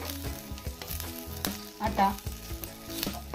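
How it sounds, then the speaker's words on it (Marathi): Grated coconut roasting with browned onions in a pan, a close crackling sizzle with stirring scrapes, under a brief word from a speaker and faint background music. "आता आपण त्यात खोबरं टाकूया आणि खोबरंही व्यवस्थित त्याला भाजूया।"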